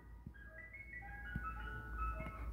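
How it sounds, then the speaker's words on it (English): An ice cream truck's jingle plays in the background, a steady tinkling melody of bright repeating tones held at a moderate, distant level throughout. "an ice cream truck in the background"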